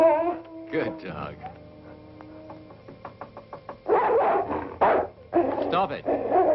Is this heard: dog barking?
yes